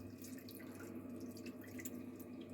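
Water mixed with potato soup poured over beef frying in a pan, giving a steady, soft sizzle and bubbling hiss with scattered crackles throughout, close by and without talk.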